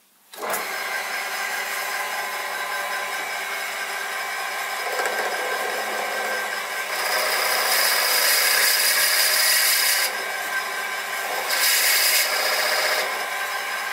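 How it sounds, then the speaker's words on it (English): Continuous abrasive whir of a power sander on wood, close and loud, shifting in pitch and intensity as pressure changes. "I'm going to have to do quite a bit of sanding"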